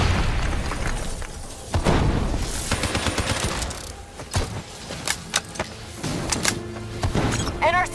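Rogue robots detonating in Call of Duty Black Ops 3, with bursts of gunfire, sharp metallic impacts and booming blasts in a dense, chaotic battle mix, with some voices underneath.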